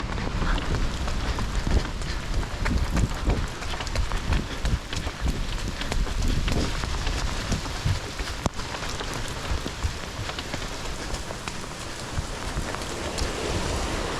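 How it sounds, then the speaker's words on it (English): Heavy rain pounding on a jacket hood in freezing conditions before a surf paddle-out, a dense, close, unbroken drumming patter with some wind and no talk. "it's like the rain is just pounding on my hood"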